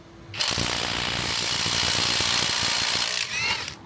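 A ProCraft Industrial IW550A impact wrench run on its fourth mode gives one loud burst of rapid hammering rattle, about three seconds of dense, fast mechanical impacts that then wind down.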